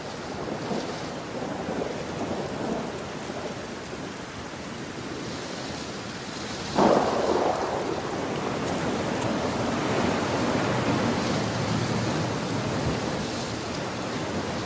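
Rainy-season downpour in Ruaha, Tanzania lion country, a broad continuous roar of rain with a heavier surge of thunder or wind midway, sustained and fairly loud with no voices.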